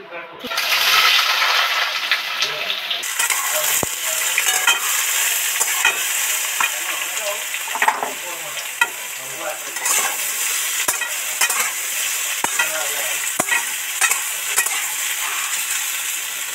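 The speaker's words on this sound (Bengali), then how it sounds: "ওল আর আলু তো ভাজতেই থাকছি" Potatoes and elephant foot yam fry in hot oil in a pan. A steady loud sizzle runs throughout, with repeated scraping and clinking as a spatula stirs the pieces. No one speaks.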